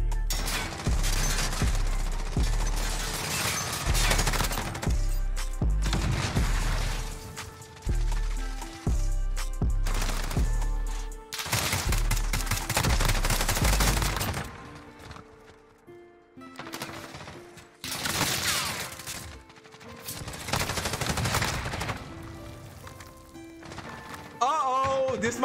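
Encryption MK9 light machine gun from Modern Warfare firing in sustained automatic bursts, loud and close, broken by short pauses and with a voice talking over parts of it.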